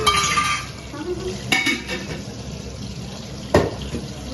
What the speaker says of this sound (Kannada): ಇದು ನೀರು ಹಾಕಿದ್ದೀನಿ